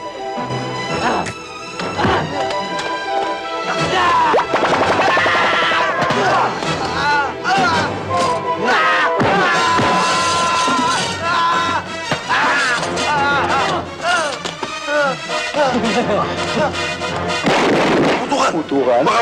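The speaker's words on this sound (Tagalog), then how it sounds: "Putukan? Baka madamay pa tayo." Gunfire in a Filipino action film, dense bursts of shots and impacts layered under a loud music score, with people talking over the continuous, busy action.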